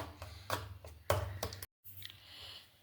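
Mashed banana is stirred into dosa batter in a bowl, giving a few quiet, sharp spoon knocks and soft clicks in an irregular rhythm, broken by a brief silence before faint stirring resumes.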